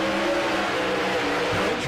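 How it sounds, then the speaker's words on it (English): A Chevrolet and a Ford drag racing car at a no-prep drag strip roar loud and continuous at full throttle, a thick engine drone with a slight pitch change near the end, no voices. "Classic Chevrolet versus Ford battle."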